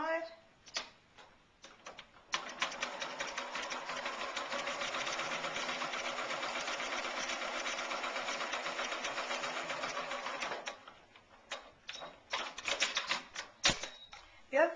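A sewing machine runs in one sustained burst of rapid, even stitching as it sews down one side of a ribbon on a heart-shaped needlecase, with quieter handling clicks and taps before and after.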